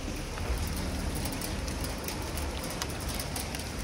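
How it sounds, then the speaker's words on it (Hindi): Hail falls in a storm in North Bengal, producing a steady, dense, hissing patter with scattered sharper ticks throughout. "हेल स्टॉर्म हो रहा है, ओले गिर रहे हैं।"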